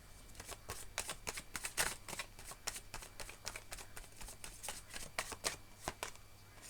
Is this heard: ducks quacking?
no